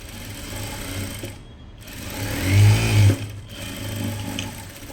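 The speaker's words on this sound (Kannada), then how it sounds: "ಈಗ ಒಂದೊಂದು ಕಡೆಗೆ ಮೂರು ಮೂರು ಅಥವಾ ನಾಲ್ಕು ನಾಲ್ಕು ಸ್ಟಿಚ್ಚನ್ನ ಹಾಕಿ ಕೊಡಬೇಕು" A sewing machine stitches the side seam of a blouse, its steady mechanical whir running throughout and swelling louder for a short burst of fast stitching in the middle before settling back to an even hum.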